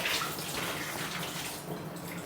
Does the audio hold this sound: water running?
yes